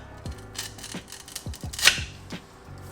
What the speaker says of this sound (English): I'm gonna go ahead and use these Vibrant hose cutter deals.